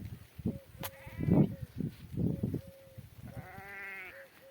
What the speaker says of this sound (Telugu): చూడండి ఫ్రెండ్స్ మా గొర్రెలు